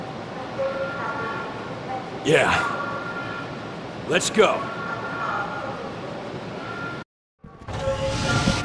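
Train arriving in the video game Resident Evil: The Darkside Chronicles, a rumbling approach with two sharp screeching horn-like blasts, under brief talk, then a cut and rising rumble at the end.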